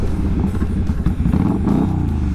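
A Kawasaki Drifter motorcycle engine runs cold on a chilly road ride, a steady close, low rumbling thrum with uneven, lumpy firing and a little clatter, continuous throughout.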